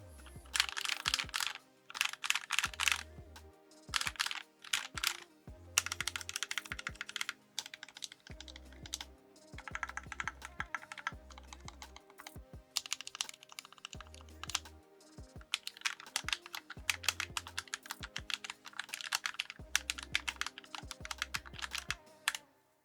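Typing on a custom mechanical keyboard with lubed switches makes a steady, close run of soft, thocky keystrokes, broken into bursts with short pauses and occasional deeper spacebar hits.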